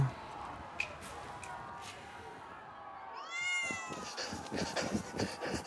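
A cat meows several times with rising, wavering cries over background rustling and shuffling, close by.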